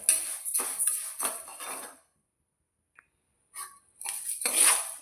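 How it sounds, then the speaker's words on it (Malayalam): A metal spoon scrapes and clinks against a hot pan as horse gram is stirred and dry-roasted, several bursts of stirring broken by a short pause of near silence before the scraping resumes. "നല്ലതുപോലെ ഒന്ന് ചൂടാകുന്നവരെ ഇളക്കി കൊടുത്ത്"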